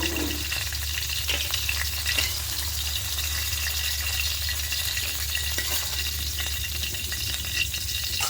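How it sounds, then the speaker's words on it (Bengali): Hilsa fish heads fry in hot oil with a steady, dense sizzle that holds evenly throughout, with occasional faint clinks of stirring. "উল্টে পাল্টে খুব ভালো করে লাল লাল করে ভেজে নেব মাথাগুলো ভাজা হয়ে গেছে"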